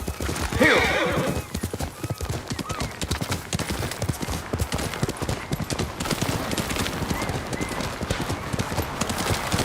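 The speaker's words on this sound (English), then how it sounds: "You're a good horse, Nobu." Rapid hoof clip-clops from a galloping horse in Ghost of Tsushima Director's Cut drive steadily throughout, with a sharp whinny early on, loud and close, amid game-like ambience.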